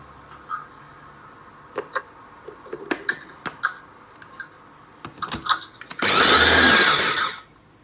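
A mixer grinder whirs into a steady, loud blend of homemade mayonnaise in its jar, starting abruptly after scattered clicks and taps and running for about a second and a half before cutting off.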